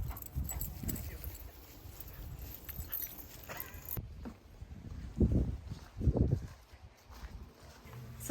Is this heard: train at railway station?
no